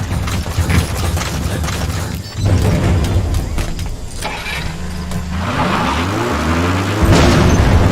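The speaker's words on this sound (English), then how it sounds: "Boss, did you see that explosion?" A vehicle blows up in the video game Metal Gear Solid V: The Phantom Pain, a loud booming burst over a running engine, followed by rumbling and layered in-game mechanical noise.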